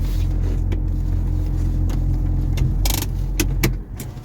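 A car's engine rumbles low and steady from inside the cabin, broken by a few short clicks and rattles before the drone drops off as the vehicle comes to a stop.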